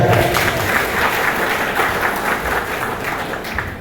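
An audience at a hill-region writers' honouring ceremony claps loudly and steadily, a dense wash of applause filling the room with a faint voice underneath.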